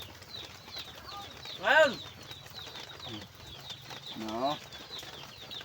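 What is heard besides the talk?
birds calling and flapping wings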